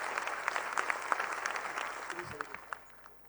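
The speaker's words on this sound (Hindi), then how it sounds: "उनका भी जोरदार तालियों से मंच पर स्वागत करती हूँ" Audience applause at a Hindi poetry gathering welcoming a poet to the stage: a brief burst of steady clapping from a crowd that fades out toward the end.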